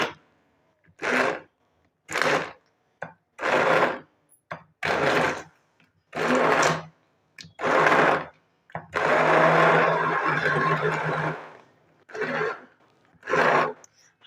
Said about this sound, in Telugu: ఇలా హ్యాండ్ బ్లెండర్తో బ్లెండ్ చేసుకోవాలి.